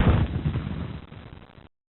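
Civil War cannon artillery fire as a sound effect, a deep rumbling boom that starts strong and rolls away into a fading low roar, with no voices.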